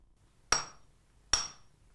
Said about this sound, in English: he hammers a plain iron rod down to a sharp point